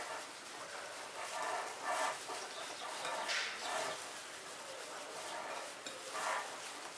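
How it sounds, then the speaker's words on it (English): A whisk beats milk into thick onion ring batter in a bowl, giving a close, steady rhythmic swishing and tapping that swells and eases in repeated strokes. "So we're gonna add that to this, and now we're gonna first nicely whisk this up."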